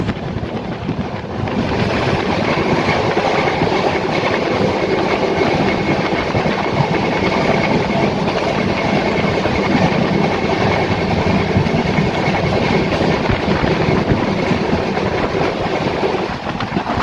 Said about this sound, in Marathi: 10:40 वाशिम रेल्वे स्टेशनवरून आपली ट्रेन निघालेली आहे।